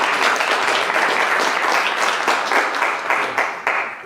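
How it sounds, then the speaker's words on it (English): Sustained, full applause from a meeting audience at an African chapters advocacy gathering, a dense wash of many hands clapping that holds steady before tapering slightly at the end. "Marcema is here for a round of applause"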